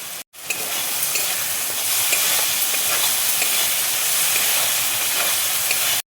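Jackfruit curry masala with tomato sizzles loudly in a pan as it is stirred. The frying hiss is continuous and close and carries on steadily after a brief break at the start, with no one speaking.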